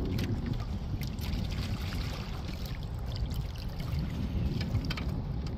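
A motorized Sportspal canoe pulls off a beach, its small outboard engine giving a steady low drone with water wash and splashing, close and continuous with no talk.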